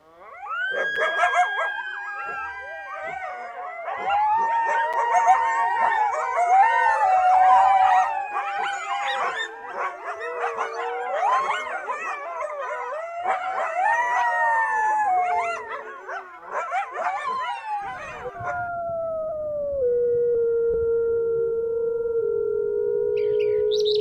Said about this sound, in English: Now, a word from some of our coyote friends.